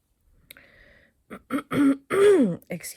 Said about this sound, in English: I clear my throat over and over again in this video